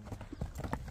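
A horse's hooves clip-clop in a quick irregular series of soft thuds, faint and somewhat distant throughout.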